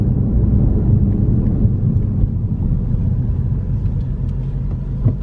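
Ford Shelby GT350 fitted with a Steeda clutch spring, driving while shifting gears: a steady low engine and road rumble fills the cabin throughout, loud and continuous with slight dips as the gears change.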